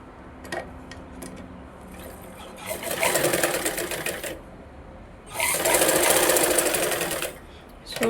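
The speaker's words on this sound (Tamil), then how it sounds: "நல்ல பக்கம் வச்சு ஷோல்டரில் 1/2 இன்ச் அளவுக்கு தையல் அடித்து திருப்பிக்கலாம்" A sewing machine stitches the shoulder seam of a blouse in two close, fast bursts of loud mechanical whirring, with light handling clicks and a soft voice in the quieter moments between.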